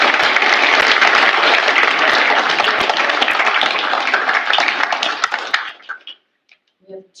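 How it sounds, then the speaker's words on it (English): Loud, dense audience applause at a college business awards ceremony that holds steady for several seconds, then thins to a few last claps and falls silent. "one more round of applause for our major students of the year"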